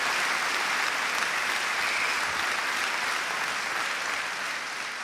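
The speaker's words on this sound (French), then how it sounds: "Le fait que vous ayez applaudi là en dit long, vraiment." Audience applause fills a French stand-up comedy show, dense and steady throughout, a continuous wash of clapping from a large crowd with no voices above it.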